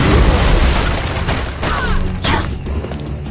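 A shot fired in the video game Kena: Bridge of Spirits, loud booming impacts and crashes amid dense, continuous game noise.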